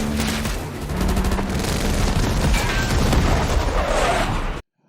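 Gunfire during a chase on a ski slope in a TV action series, a dense sustained fusillade of shots and booms with crashing debris, loud and continuous before cutting off abruptly.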